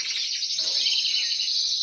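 Pet birds chirp indoors in a bright, continuous twittering chorus, with no speech over it.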